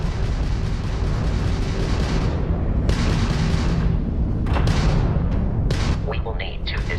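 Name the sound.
Crimson Fleet ship firing weapons in a video game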